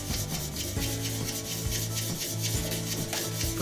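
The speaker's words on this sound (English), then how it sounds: "I'm just going through the sanding stages before I pat off the bottom and then shape the bottom and finish it" Steady, continuous sanding of a resin hybrid blank for a shaving brush handle, a loud, close, rhythmic rubbing rasp that runs unbroken throughout, with no voices.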